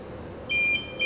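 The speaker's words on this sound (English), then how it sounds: "So this is your off course alarm." The off-course alarm of a PT500 autopilot sounds from about halfway through, a steady sustained high electronic beep over a low hum, cutting off briefly then resuming.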